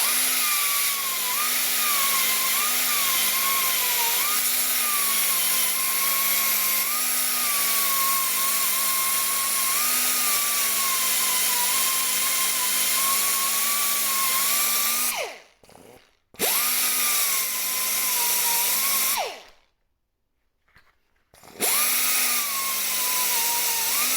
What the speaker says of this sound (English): Now we'll finish this up by cleaning it up with a flap disc.